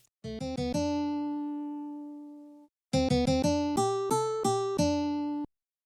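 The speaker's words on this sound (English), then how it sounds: "here I have a written guitar part" Plucked, synthetic-sounding guitar notes play a quick rising phrase that rings out, pause briefly, then return as a longer run of bright, crisp notes.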